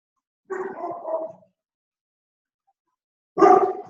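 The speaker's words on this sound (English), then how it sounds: "There's my delightful dog barking at somebody walking by." A pet dog indoors barks at someone walking past: a short burst of barks, a pause of silence, then a second sharp burst, close and clear with nothing else around.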